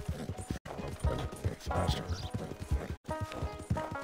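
Horse hooves galloping in Red Dead Redemption 2, a steady rapid thudding gait running under game ambience, with someone speaking briefly over it.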